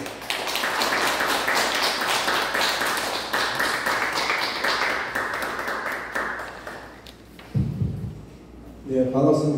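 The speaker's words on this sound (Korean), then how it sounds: "여러분 힘찬 박수로 환영해 주십시오" An audience at a Korean forum applauds to welcome a speaker: dense, sustained clapping that fills the room for several seconds, then dies away into a few low thumps and shuffling noises.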